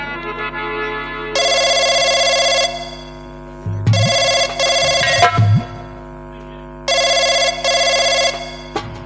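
A telephone rings in three loud electronic bursts separated by pauses, with a few clicks and handling knocks in between, heard in a comedy scene while a servant calls an inspector.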